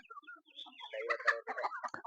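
Native country chickens cluck and chatter up close on an areca nut farm, a rapid series of short calls that rises to a busier flurry toward the end.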